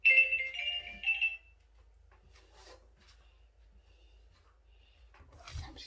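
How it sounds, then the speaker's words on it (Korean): A phone alarm tone previewed while an alarm is being set, a bright melodic ringing of several quick notes for just over a second, followed by near-quiet with faint handling rustles. "알람 소리 설정은 뭘로 할까?"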